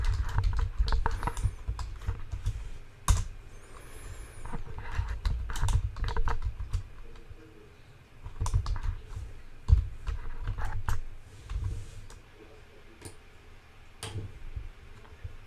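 Computer keyboard typing while writing code: rapid bursts of close key clicks come in uneven runs with short pauses, fairly quiet over a low background hum, with no talking.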